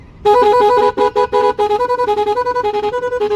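A bright, musical horn plays a quick tune of repeated two-tone toots, then settles into a steady rapid warbling series, loud and close.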